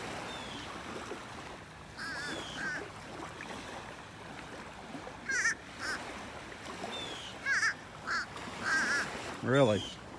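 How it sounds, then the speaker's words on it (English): A crow caws in several short bursts on a beach in North Naples, Florida, fairly near and clear above steady surf and a breezy outdoor wash, with someone speaking briefly in between. "Old crow."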